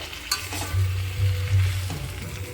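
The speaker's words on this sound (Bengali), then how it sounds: "ফুলকপিটা ভাজা করে রেখেছিলাম ফুলকপিটা দিয়ে দেবো ফুলকপিটা একটু কষিয়ে নেবো" Fried cauliflower being stirred in a pan with potato and spices, a steady close sizzle with scraping stirs throughout, no voices.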